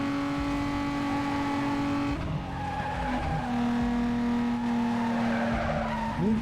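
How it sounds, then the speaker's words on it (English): An inline-six car engine in the Need for Speed Most Wanted racing game drones at a steady pitch, then shifts and climbs again as tires skid through a corner. "This car actually sounds quite good."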